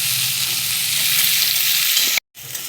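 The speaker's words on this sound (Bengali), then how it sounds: "এবার দিয়ে দিচ্ছি এক বাটি পেঁয়াজ। পেঁয়াজটা একটু বেশিই দিয়েছি। পেঁয়াজটাকে লাল করে নেব একটু।" A bowl of chopped onions frying in hot spiced oil in a pan, a loud, continuous sizzle close up that briefly cuts out near the end before resuming.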